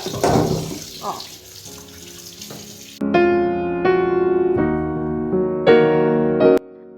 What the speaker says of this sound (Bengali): এখানে আমি মাটনটা ধুচ্ছি